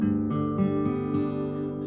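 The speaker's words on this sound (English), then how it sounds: "in the Taropatch tuning, which is an open G. Sounds like this." A slack key guitar in open G Taropatch tuning (DGDGBD) rings out with several strummed chords, the last one left to sustain and fade, close and quiet.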